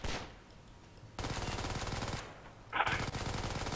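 Rapid automatic gunfire in Garry's Mod, loud close bursts of rattling shots broken by short pauses, with no talking.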